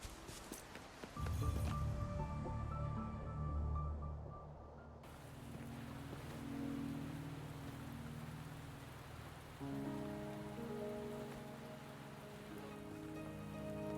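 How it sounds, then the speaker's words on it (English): Steady rain patters across a surface in the video game Wuthering Waves, a continuous wash that sits under soft game music throughout, with no talking. "Are you trapped here by the rain?"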